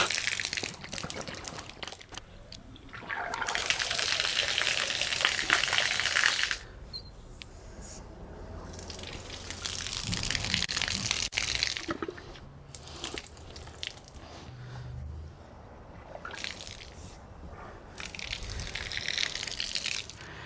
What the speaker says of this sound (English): we're going to turn the valves so that they're facing towards the tank and water will come out